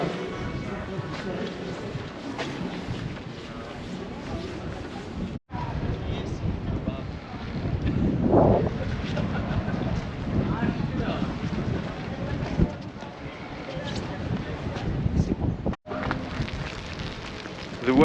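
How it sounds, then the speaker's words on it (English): Strong wind gusts roar and buffet the microphone on a snowy street in Reykjavik, Iceland, a loud continuous rumble with brief dropouts, while a person talks underneath. "The wind and the snow was absolutely pelting our faces."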